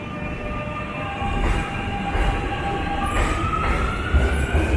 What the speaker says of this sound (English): Okay, here's the train coming.